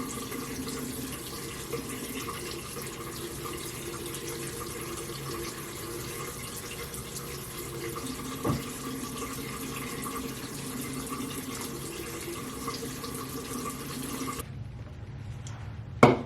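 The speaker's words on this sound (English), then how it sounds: "I'm gonna wash my face twice because I don't have makeup remover" A bathroom sink tap runs in a steady, fairly close rush while someone washes their face, then shuts off near the end, leaving a few small splashes and drips.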